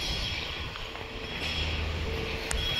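A train passes near a river bathing spot, heard as a steady, loud rumble of wagons and rails with rhythmic wheel clatter and a brief high squeal near the end.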